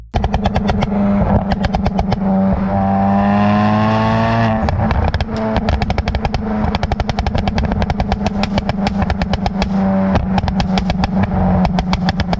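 A modified 420 bhp Honda Civic Type R FK8 revs hard with its exhaust, the engine note climbing and falling amid rapid, loud crackling pops and bangs in dense bursts.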